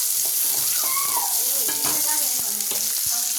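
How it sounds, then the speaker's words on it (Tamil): Onions sizzle steadily in a hot pan with curry leaves, with occasional scraping and stirring clicks from a utensil over the continuous frying hiss, while making Tamil kara kuzhambu. "வெங்காயம் போட்டுக்கிறோம். இது நல்லா பொன்னிறமாகிற வரையும் நம்ம வதக்கி எடுத்துக்கலாம்."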